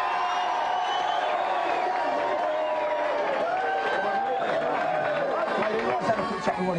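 A television game-show studio audience cheers and whoops loudly for snooker champion Ronnie O'Sullivan, a sustained roar of excited voices and shouts under a constant crowd wash.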